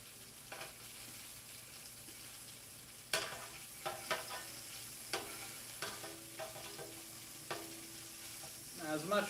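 Chicken tenderloins sear in a hot pan with a steady background sizzle, punctuated by several sharp clanks and scrapes of a utensil against the pan.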